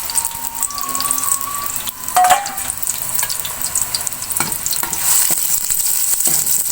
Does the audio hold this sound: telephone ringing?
no